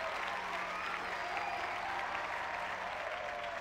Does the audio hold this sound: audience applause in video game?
yes